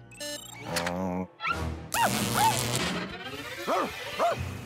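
A small cartoon dog yaps several times in quick bursts amid cartoonish sound effects, a whoosh and a crash; loud, close and animated, from the Inspector Gadget cartoon.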